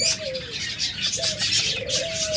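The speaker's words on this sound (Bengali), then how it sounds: "এটা হচ্ছে আপনার টিয়া পাখি, হল্যান্ড ব্লাড লাইন, বিগ সাইজের মাদি পাখি, ফিমেল" A big female yellow ring-necked parakeet of Holland bloodline gives a few short, bright calls amid dense chirping from other caged birds, fairly close and with no voices.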